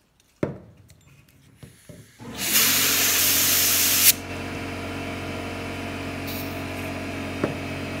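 Carb cleaner sprayed into a Troy Bilt sickle-bar mower, a short handling clatter followed by a loud steady hiss lasting about two seconds, then a lower background hum with a faint tap.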